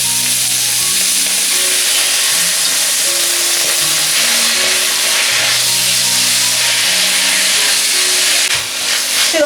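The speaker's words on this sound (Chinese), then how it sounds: "这个酸菜呢要煸炒一会儿，煸出香味儿，把水分煸干。" Pickled mustard greens stir-fried in a hot wok for fermented-mustard fish, a loud continuous sizzle and hiss with steady stirring, close and unbroken.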